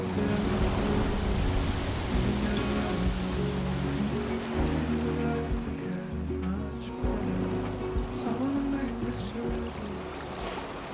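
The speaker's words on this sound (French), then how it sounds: "de chaque côté les rochers sont attaqués par des vagues en furie" Heavy surf pounds rocks on the coast of Réunion island continuously, a dense roaring wash of water with rumbling low swells, loud and close, no voices.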